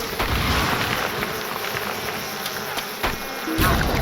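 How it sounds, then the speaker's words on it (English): A swarm of bees from a video game buzzes in a dense, continuous drone mixed with game effects, holding fairly loud for about four seconds with no talk over it. "He sent bees at me."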